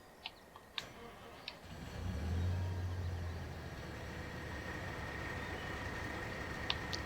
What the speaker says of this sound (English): The new combine. Let's fire that up.